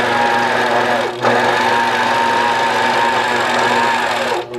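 A longarm quilting machine stitches a pantograph, its motor running as a steady, loud, close mechanical whir with a fast rhythmic needle pulse, briefly dipping twice as it moves along.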